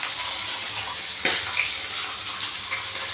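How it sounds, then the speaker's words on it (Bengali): Rice being washed in water in a home kitchen, a steady close wash of sloshing and trickling water with a brief splashy stir near the middle, no voices. "ধোয়া হচ্ছে ভাতে।"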